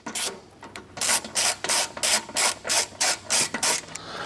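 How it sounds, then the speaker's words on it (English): A wrench clicks rhythmically while loosening the bolts on the plastic cover of an MCS-16 furnace, giving about a dozen regular, close ratcheting bursts after a quieter start, with no talking. "So you'll pull the two bolts off that hold the plastic cover."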